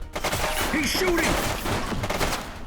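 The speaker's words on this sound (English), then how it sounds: "He's shooting!" A suspect fires a gun in The Precinct, a police game, with a quick run of loud sharp shots packed into a brief burst over dense background noise.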